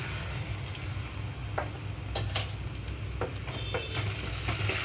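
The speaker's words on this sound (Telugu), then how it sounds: "ఇక్కడ ఉల్లిపాయ ముక్కలు కొంచెం దోరగా వేగిపోవాలి." Onion pieces fry in a pan over low flame with ginger-garlic paste, making a steady close sizzle with a few scraping stirs and light pops. No voices.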